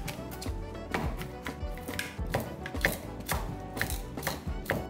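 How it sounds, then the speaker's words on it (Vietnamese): A knife finely chopping cilantro leaves on a board, a quick irregular series of sharp close taps and thuds repeating throughout, heard alone without talk. "Thì chúng ta sẽ băm nhuyễn cái lá này ra nha."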